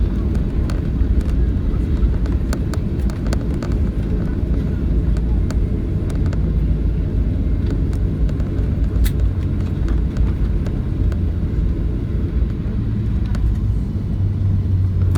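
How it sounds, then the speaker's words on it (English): A continuous deep rumble of a Ryanair Boeing 737-800 rolling and slowing after landing with idle reverse thrust fills the clip, steady and loud, with faint clicks and rattles of steel brakes on top. "Can you hear a bit of the steel brakes?"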